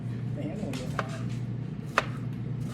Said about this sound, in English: I'm just chopping it